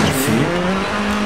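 A rally car slides and skids in the Dirt 4 racing game, giving a loud, continuous engine drone with a wavering tire squeal for a second or so.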